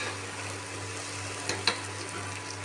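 Biryani masala frying in oil in a pan as it is stirred, a steady soft sizzle with a couple of faint scraping stir sounds, no talking.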